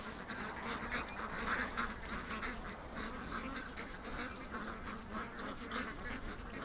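Ducks quack repeatedly at a moderate distance over a steady outdoor background hiss, the calls scattered and overlapping.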